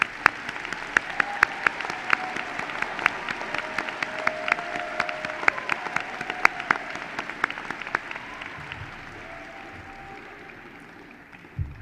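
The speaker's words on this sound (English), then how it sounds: "Round of applause." Commencement audience applauding for graduate degree recipients, a broad sustained wash of many hands clapping with sharp individual claps standing out, fading gradually toward the end.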